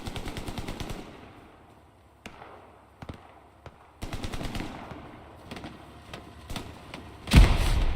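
Machine gun fire in a World War II tank game, rapid bursts of sharp automatic shots, then isolated single cracks and another long burst, ending with a loud nearby blast.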